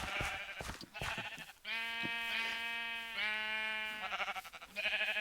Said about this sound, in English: never keep sheep in your main town area because they are so noisy